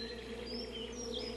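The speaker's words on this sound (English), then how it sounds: "Outside the hive, older worker bees look for flowers." Honey bees buzz with a steady, faint drone while a few higher whining tones drift over the top, continuous and unbroken, with no voices.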